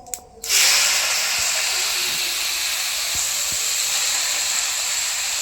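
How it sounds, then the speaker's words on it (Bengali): Chopped water spinach dropped into hot oil, a sudden burst of loud sizzling after a brief clatter that settles into a steady, close hissing fry with a few faint knocks. "এবারে কেটে রাখা কলমি শাক তেলের মধ্যে দেব।"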